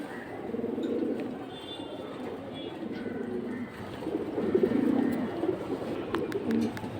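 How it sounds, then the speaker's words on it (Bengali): At a pigeon market, several pigeons coo in overlapping, throaty rolls close by, a continuous low warbling that swells midway with faint chirps above it. "মাশাআল্লাহ, বিন্দুমণির কবুতর, খুব সুন্দর"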